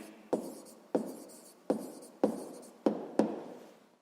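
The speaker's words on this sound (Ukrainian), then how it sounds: "Записуємо дві задачі." A pen writes down the answer to a sixth-grade maths exercise by hand. Six quick, close scratching strokes come in an uneven rhythm, each starting sharply and trailing off, in a quiet room with no talking.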